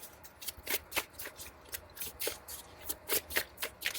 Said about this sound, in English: it's kind of hard to get a good shuffle